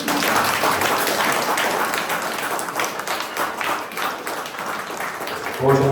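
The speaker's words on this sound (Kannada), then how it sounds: "ಎಷ್ಟು ಚೆನ್ನಾಗಿ ಮಾಡಿದ ಅಂದ್ರೆ ಜೋರಾಗಿ ಚಪ್ಪಾಳೆ ತಟ್ಟಿ" An audience at a World Photography Day award event breaks into loud, sustained applause, a dense crackle of many hands clapping together across all six seconds.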